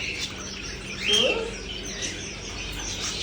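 Canaries and other small birds at an animal and bird market in the UAE chirp in a brief burst of high tweets over a steady market hum, fairly faint and mixed with background voices.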